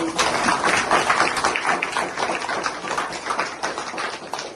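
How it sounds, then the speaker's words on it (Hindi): An audience at a Modicare 30th birthday event breaks into loud applause, a dense, continuous run of many hands clapping that eases off slightly toward the end. "जोरदार ताली"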